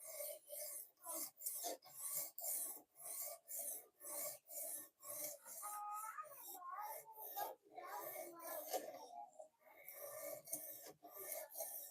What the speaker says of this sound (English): We're gonna take this thing till we get a burr going.